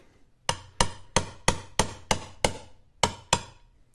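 A metal tube is hammered to seat a seal in a Saginaw Chevy power steering box, with nine sharp, evenly spaced metallic blows, close and loud, each ringing briefly.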